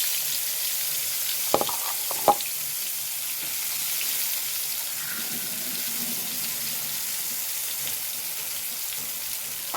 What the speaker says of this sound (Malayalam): നമുക്ക് വഴുതിന വറുത്തെടുക്കാം കേട്ടോ.